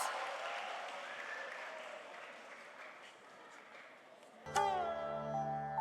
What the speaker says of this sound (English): A huge round of applause to our tiny tots.